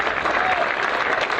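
Steady applause from a live audience, dense clapping filling the whole moment without a break.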